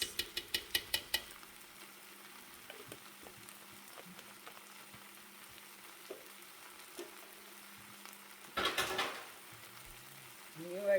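A spoon stirs ground cinnamon into butternut squash soup mix in a pot, giving quiet scraping and clinking with a few sharp taps at the start and a louder burst of scraping later.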